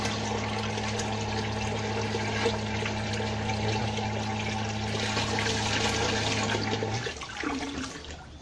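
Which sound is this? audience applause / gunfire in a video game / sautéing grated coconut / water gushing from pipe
water gushing from pipe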